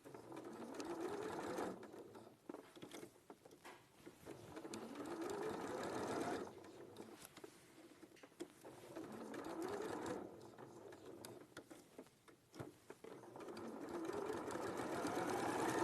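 A domestic sewing machine stitching with the ordinary presser foot on, a close whirring motor in bursts of several seconds separated by brief pauses for pivoting.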